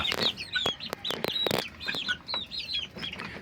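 Chickens in a brooder, clucking and chirping steadily throughout, with several sharp louder calls standing out near the listener and a few soft wing flaps in between.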